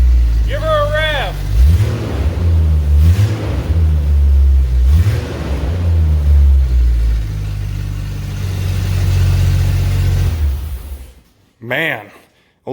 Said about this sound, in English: Give her a rev.